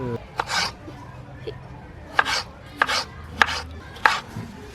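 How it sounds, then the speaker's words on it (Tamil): Knife chopping tomatoes for vegetable fried rice, a series of sharp, fairly close cuts in uneven bursts with pauses between, over a faint background murmur. "இப்போ வந்து நான் தக்காளி கட் பண்ண போறேன்"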